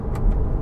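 Car fitted with an Evox exhaust, its valve closed, driving in third gear at about 50 km/h; a low, steady engine drone with road rumble, brief and fairly loud.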